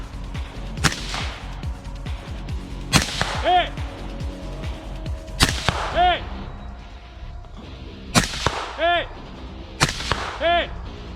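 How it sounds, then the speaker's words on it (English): Rifle shots ring out at targets during a run-and-gun rifle biathlon at a barbed-wire obstacle, five sharp cracks spaced a few seconds apart with metallic target pings after them and talk in between. "At the barbed wire, you had to engage rifle targets before crawling, then crawl, re-engage those same targets."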